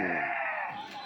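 Sheep and lambs at a Tuesday livestock market in Kadiri bleat in a dense, continuous chorus that sounds close and fairly loud, with the crowd's noise mixed in underneath.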